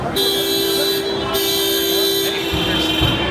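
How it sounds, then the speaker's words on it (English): A steady, loud car horn blares on and on with a busy hum of traffic around it in Delhi, India, and voices chatter faintly underneath. "The horn honking has begun."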